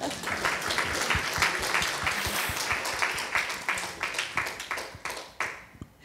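Audience at a Pittsburgh satsang breaks into steady, sustained clapping that fills the room, loud and dense throughout before thinning slightly toward the end.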